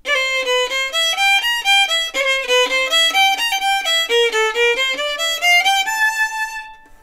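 Violin playing a fast sautillé passage from Czardas with grace notes, a quick, even stream of short bouncing notes across a run, ending on a held note, clear and solo.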